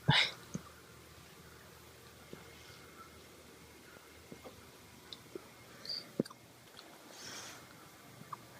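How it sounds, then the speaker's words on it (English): A husky puppy hiccuping: faint, soft, irregular little hiccups in a quiet room, with no talk. "you got the hiccups?"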